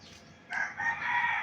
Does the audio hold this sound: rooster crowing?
yes